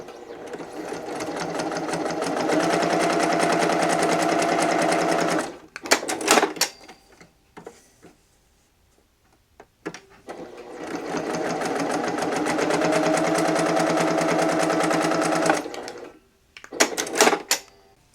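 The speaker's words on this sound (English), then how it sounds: "We're going to take this to our machine and we're going to top stitch 2 parallel lines along the edging here." A home sewing machine top-stitches parallel lines along the edge of a fabric bookmark, running in two long steady bursts of fast rhythmic whirring, each followed by short stop-start stitches and quiet pauses.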